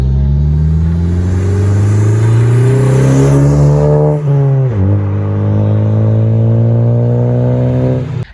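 A 10th-gen Honda Civic Si engine fitted with a MAPerformance downpipe revs hard and steadily climbs in pitch, drops briefly, then holds a loud sustained high rev, close and alone with no talk.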